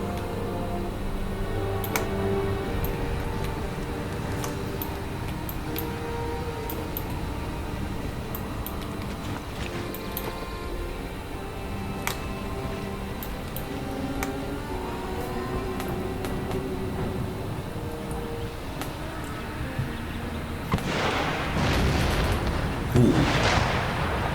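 Artillery fire on an Empire: Total War battlefield, with scattered cannon reports and sharp cracks over a continuous bed of battle noise and music, swelling into a louder rolling burst near the end.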